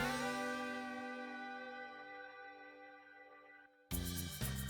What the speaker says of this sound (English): the organ sound you hear is the Native Instruments B4 software synth